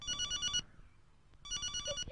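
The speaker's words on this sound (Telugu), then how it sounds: "ఇంట్లో నుంచి అంజలి ఫోన్ చేస్తోంది." A telephone rings for an incoming call with two bright electronic ringtone bursts, clear and moderately loud over faint low background noise.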